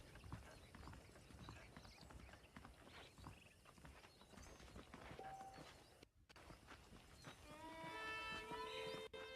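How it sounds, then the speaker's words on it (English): Horses in the video game Red Dead Redemption trot, their hooves clip-clopping in a quick steady rhythm at moderate distance, with faint voices and background ambience around them. "The horses are saddled up over here."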